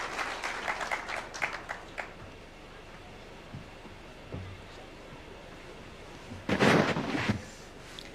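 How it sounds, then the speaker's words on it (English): A crowd at an outdoor trade fair gives brief bursts of scattered clapping over a noisy, rumbling open-air background, with a short burst at the start and a louder one near the end. "Let's clap for her."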